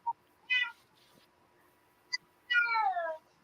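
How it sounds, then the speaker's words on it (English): A house cat meowing repeatedly indoors, close and clear: a short chirp, a longer meow, a tiny squeak, then a drawn-out falling meow, with near silence in between. "Yeah, that's my cat."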